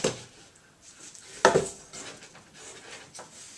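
A metal saucepan clanks and scrapes once as it is picked up and set down, a brief close knock followed by quieter handling sounds.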